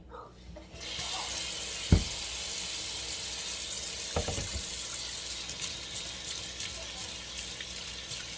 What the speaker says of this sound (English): So we're going to start off washing our hands.